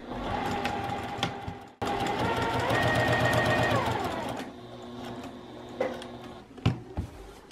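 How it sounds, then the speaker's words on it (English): A sewing machine backstitches the bottom openings of a zipper pouch, running loud and close with steady rapid stitching, a brief stop, then slower stitches and a few clicks. "we're just gonna start here, backstitch at both of your bottom openings here"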